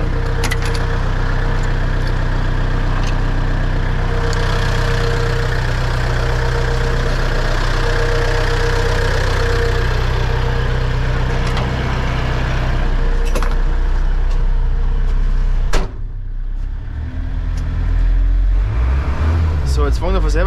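Diesel engine of an MB-trac 700 tractor under restoration running steadily at a rough, knocking idle for the whole stretch, close and loud, with a brief clunk and change in tone near the end.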